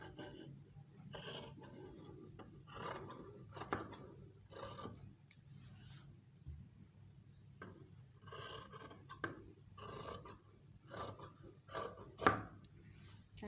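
Scissors snipping through shirt fabric along a seam, trimming the excess cloth for sleeve joining; a series of short, close rasping cuts in irregular bursts with pauses between, no talk.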